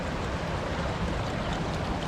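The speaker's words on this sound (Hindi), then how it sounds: "यहाँ पे ये छोटा सा झरना आ रहा है ऊपर की तरफ से" A small waterfall stream runs down into a river in the Kasol hills of Himachal Pradesh, giving a steady, dense rushing of water with no break.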